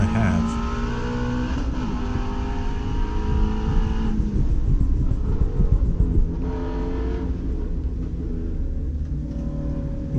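A Ford Mustang GT350R running on a race track on a hot day, its engine droning loudly and steadily with gear shifts and rising revs throughout.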